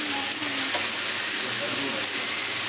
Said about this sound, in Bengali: কলমি শাকটা দিয়ে ভালো করে উপর নিচ করে আমি নেড়ে দেবো